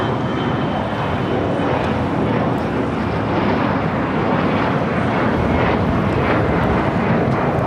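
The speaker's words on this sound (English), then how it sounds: "This Gulfstream 5 is taking off to Austin, Texas." A Gulfstream V business jet takes off at LAX, its engines a steady, loud, broadband roar that holds without a break, with some wind buffeting at the microphone.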